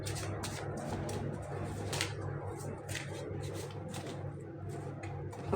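Playing cards are shuffled for a card reading: repeated quick riffling and slapping bursts, close and steady over a low background hum, with no talking.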